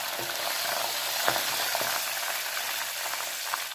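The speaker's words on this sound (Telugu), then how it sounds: "ఆవాలు చిట్పట్లు ఆడిపోయి పోపు అయిపోయింది" Mustard seeds spit and pop in hot oil under a steady loud sizzle, with scattered sharp crackles close by.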